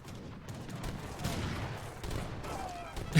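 In an Age of Empires–style battle, field cannons and culverins fire as a dense, faint, distant rumble of repeated booming shots under game noise.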